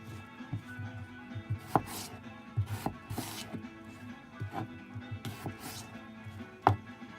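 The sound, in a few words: roughly chopping potatoes on a board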